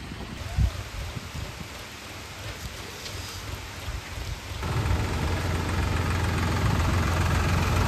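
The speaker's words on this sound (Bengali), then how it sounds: "আর এদিকে বৃষ্টি হচ্ছে" Steady rain patters down at Netarhat, growing heavier and denser partway through, with a low engine idling underneath.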